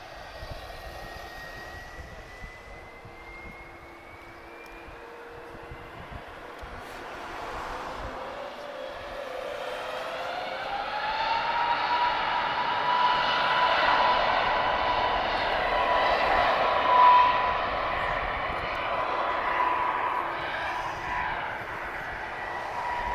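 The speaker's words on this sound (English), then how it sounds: "let us know how this takeoff looks, guys. First takeoff of today." A heavy airliner takes off at Lisbon Airport, a broad engine roar building steadily from distant to loud and sustained, with a rising whine riding over the rumble and no talk.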